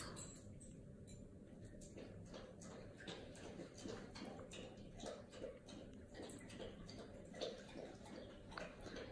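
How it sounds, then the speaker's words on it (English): A dog lapping water from its bowl indoors, a soft, steady run of small wet clicks and splashes repeating throughout, fairly quiet and close, with no talking. "Possibly you're listening to my dog drinking all his water too."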